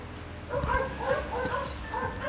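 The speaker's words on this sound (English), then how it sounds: "Don't mind the dogs, they're just barking because I don't know why." Several dogs bark and yip in repeated short bursts at a fairly close distance. The barking is steady across the moment and no one talks over it.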